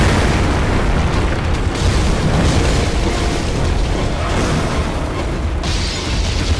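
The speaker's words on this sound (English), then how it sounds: "Just throw a pungent cocktail, light your weapon on fire" A loud, sustained roaring blast fills the space continuously, a pungent cocktail fire bomb bursting into flames in the Bloodborne video game, dense and close with no pauses.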